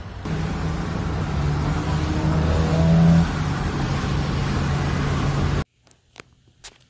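A Mitsubishi Evo's engine roars loudly as it passes close by, holding a steady drone before cutting off abruptly into near silence with a few faint knocks.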